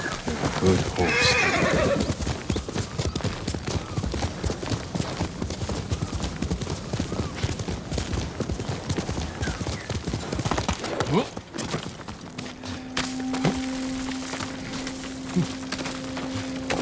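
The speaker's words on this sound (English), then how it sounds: "Good horse." A horse whinnies loudly near the start in the video game Ghost of Tsushima, then hooves clop steadily throughout, with a voice speaking over the scene and a low tone entering near the end.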